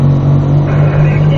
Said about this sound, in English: Start accelerating towards turn 2